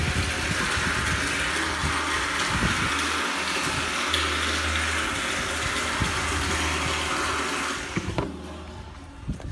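Water drains steadily from RV plumbing as pressure is released, a continuous rushing wash with a low hum underneath that fades out near the end, with no talking.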